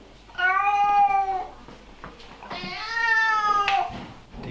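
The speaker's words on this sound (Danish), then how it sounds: "Det kan godt være, at Folmer er en sød kat" A domestic cat gives two long, drawn-out meows close by, the second louder and rising, with a short pause between and faint room noise.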